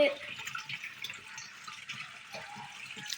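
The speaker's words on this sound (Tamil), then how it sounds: "தண்ணி வந்துக்கிட்டே இருக்கு." Water running steadily from a household tap, a continuous hiss of flow with small splashes while a voice speaks over it.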